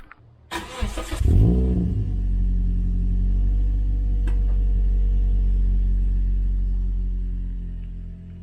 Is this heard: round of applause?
no